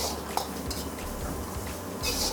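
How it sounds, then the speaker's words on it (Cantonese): Chopped aromatics being stir-fried in oil in a wok for Dungeness crab, a busy scraping, rustling toss with faint sizzle and a brief sharp clink near the start, close and continuous, no talk. "爆開啲料頭。"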